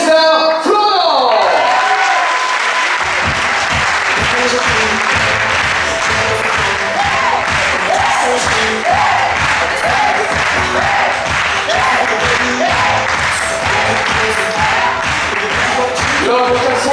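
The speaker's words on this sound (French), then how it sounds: "Applaudissements s'il vous plaît pour Mister Florent" Sustained loud audience applause with cheering and whoops fills a crowded resort staff presentation, steady dense clapping continuing throughout after a brief opening musical flourish.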